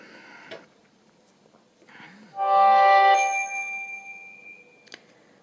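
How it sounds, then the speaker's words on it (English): A mobile phone notification chimes once at close range in a quiet crafting room, a bright tonal ding lasting about a second, with small handling clicks before and after. "It's my phone"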